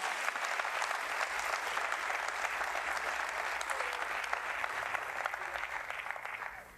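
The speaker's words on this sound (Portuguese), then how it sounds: "Aplauda o Senhor Jesus, irmão." A church congregation applauds the Lord Jesus during a Portuguese-language sermon on faith, a broad, sustained patter of many hands that holds steady and then begins to taper off at the end.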